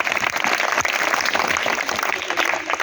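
Audience applause at a team quiz competition, steady dense clapping from many hands filling the whole moment without a break, loud and close, with no speech over it.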